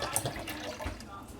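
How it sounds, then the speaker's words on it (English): Water pouring into a strawberry agua fresca, a short continuous splashing rush of liquid heard close by. "We're just gonna add water."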